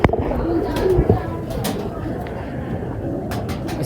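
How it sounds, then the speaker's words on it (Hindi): Pigeons coo softly nearby amid background chatter and ambient noise, the calls low and intermittent rather than prominent. "कैसा हुसन वाला कबूतर।"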